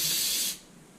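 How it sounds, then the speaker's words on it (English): A short close burst of spray cleaner hisses into a Yamaha XS650 motorcycle carburetor bowl holding jets, a bright steady hiss lasting about half a second before cutting off to quiet. "I am going to spray out the bowl here with some jets in it"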